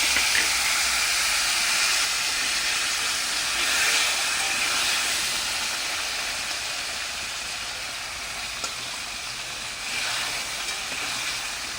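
Freshly washed, cut potatoes sizzling in hot oil over cumin-seed tempering for a fish and potato curry; a steady, close, hissing crackle that runs unbroken with no talk.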